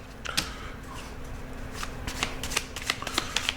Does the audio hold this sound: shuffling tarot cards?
yes